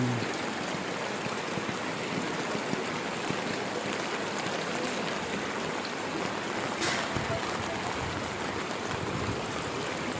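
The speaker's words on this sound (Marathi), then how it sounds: "आला एक जामच पाणी आला रे इकडे" A Konkan river near Ratnagiri, swollen by heavy rain, rushes past as a constant dense roar of flowing water with no pauses.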